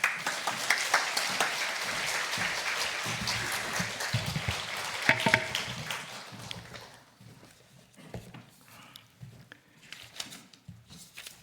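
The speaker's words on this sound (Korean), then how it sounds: "우리 교수님 나오실 때 박수 한번 더 하겠습니다." An audience applauds at a university chapel service as a visiting professor comes out: dense, steady clapping for about seven seconds that thins into scattered claps and quieter room noise.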